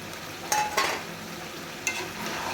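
Chicken sautés with tomato and green chilies in a pan alongside new potatoes, a soft continuous sizzle broken by a few sharp spatula knocks and scrapes, close and without talk.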